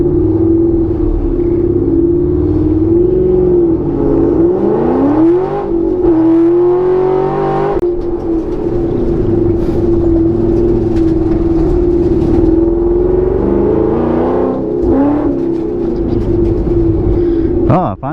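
A car in a short speed-stop mini drag race at Daytona, its engine droning loud and close, revving up and shifting pitch through acceleration, a turn and a kink with a continuous throaty rumble.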